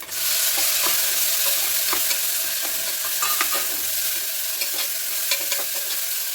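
Tomato pieces frying in hot oil with ginger paste for a brinjal curry, a dense continuous sizzle with scattered spatter pops and occasional stirring scrapes, close up and without speech.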